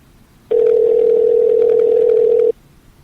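A single steady telephone tone sounds for about two seconds while a call is being placed, loud and clear over a quiet background, starting and stopping abruptly.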